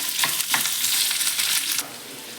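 Onion and curry leaves fry in a pan as a loud, close, steady sizzle with a couple of stirring scrapes, then the hiss drops a little near the end; no one speaks.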